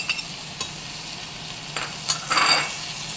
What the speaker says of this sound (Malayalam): അതിനുശേഷം നല്ലപോലെ ഇളക്കുക